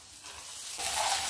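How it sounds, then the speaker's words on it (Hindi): Soaked sabudana (sago) with ginger hisses and sizzles in a hot pan, soft at first and then swelling louder partway through, close up with no talking. "अब साबुदाना को भी इसमें दो मिनट भून लेंगे"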